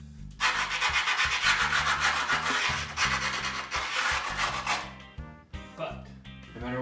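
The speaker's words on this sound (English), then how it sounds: "All you're gonna do is score the edges." Skateboard grip tape edges being scored with a screwdriver, loud close scraping rubs in repeated strokes with short pauses between them.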